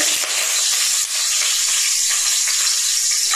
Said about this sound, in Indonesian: ini kita tumis daun salam dan lengkuas